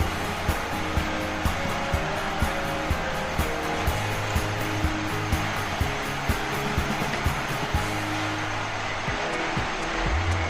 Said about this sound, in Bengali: তাহলে চালটি এবার আমি তেলের মধ্যে দিয়ে দেব।